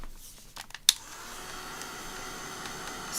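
A few light clicks and handling sounds come first, then a hair dryer starts and runs with a steady, moderate blowing hiss while drying pastel-coloured craft journal pages.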